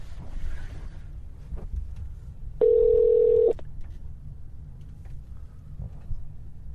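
While a phone call is placed, a clear steady telephone tone sounds for about a second, loud and alone against a quiet background of faint room noise.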